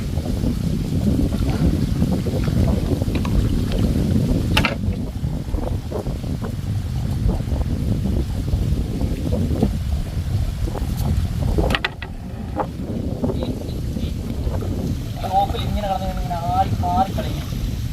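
Strong wind buffets the microphone in a constant low roar while fishing, with brief clatters and a faint voice partway through.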